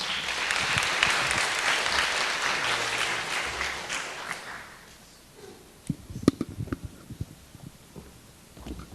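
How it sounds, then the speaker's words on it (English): An audience at an international organizations career information session claps in a dense burst that fades after about four seconds, followed by scattered thumps and handling knocks in a quiet hall. "Please welcome him with a warm round of applause"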